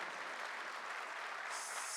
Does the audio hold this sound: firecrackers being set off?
no